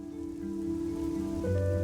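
Steady rain in the video game Fall of Porcupine, a soft continuous patter holding at an even level for about two seconds, with tonal game ambience humming underneath and no talking.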